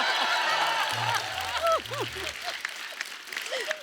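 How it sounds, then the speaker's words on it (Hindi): Applause from a studio audience at a comedy show, a dense patter of clapping heard beneath laughter and voices and overlaid with a musical sting. "पापा क्या ताली बजा रहे हैं।"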